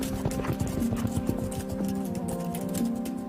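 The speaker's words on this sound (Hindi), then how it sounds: "जिनमें शामिल हैं घोड़े के एक रिश्तेदार" Hooves of a group of female kiang, the Tibetan wild ass, moving across high-altitude grassland on the Tibetan Plateau, a close, steady patter of clip-clop footfalls running throughout.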